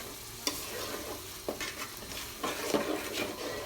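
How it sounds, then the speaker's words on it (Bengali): A spatula stirs ground nut paste through fried whole spices in a pan for chicken pulao, giving a series of brief scrapes and light clinks spaced over a quiet, continuous sizzle, close and fairly soft. "ভালো করে নেড়ে চেড়ে নেব।"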